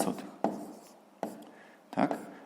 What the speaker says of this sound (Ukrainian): давайте я запишу, щоб було зрозуміліше